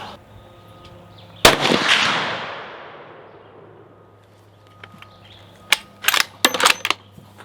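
A single loud, sharp Savage 400 Legend rifle shot cracks outdoors near targets on a hill and echoes away slowly, followed later by a few fainter metallic clinks and sharp snaps.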